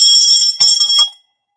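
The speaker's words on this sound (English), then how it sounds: "We ring the bell for testing victories." A bell rings in an office to celebrate passing a securities licensing exam, giving a bright, sustained metallic ring with a brief second strike before cutting off into silence.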